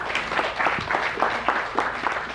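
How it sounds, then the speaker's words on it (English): A seminar audience gives a round of applause for two helpers, Dawn and Candy, during a talk on spotting liars; a dense, continuous patter of many hands clapping at moderate volume, with no speech on top. "Give these two a big round of applause"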